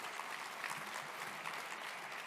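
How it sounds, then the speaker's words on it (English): Audience applause at an annual luncheon, steady dense clapping from a crowd sustained for the full couple of seconds, moderately distant and without voices. "Let's give them a round of applause for all the hard work they did to make this possible."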